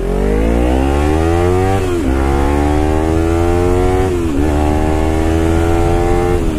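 A 2016 Kawasaki Ninja 300 accelerates hard through four gears, its loud, close engine note climbing steadily in pitch and then dipping briefly at each of several upshifts, with no talking over it.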